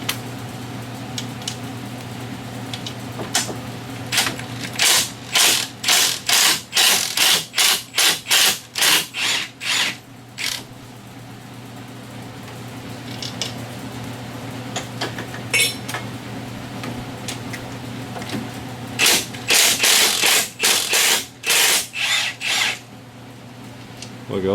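Ratchet fitted with a T45 Torx bit loosening thread-locked clutch housing bolts on a 2017 Polaris RZR Turbo, heard as repeated bursts of quick, sharp clicking strokes in two main runs, with some talk in between.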